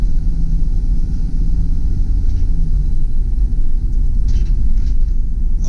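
A 2005 Freightliner Sprinter 10-passenger turbo diesel van driving over road bumps, heard from inside as a loud, continuous low rumble of engine and road noise with faint thumps, steady throughout.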